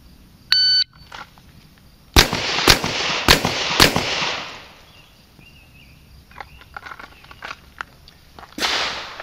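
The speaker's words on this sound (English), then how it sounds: "Draw and fire 2 rounds on each target in 5 seconds." Four sharp revolver shots in quick succession at close range on a 5-yard qualification line, fired two per target within a timed string, followed by scattered fainter clicks and a final burst of noise.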